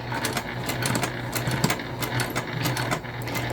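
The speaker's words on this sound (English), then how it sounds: "we're just going to stitch a line right straight across here" A sewing machine runs a straight line of stitching across a fabric bag, kept clear of a metal ring, its needle hammering in a fast, even rhythm of close, moderately loud ticks.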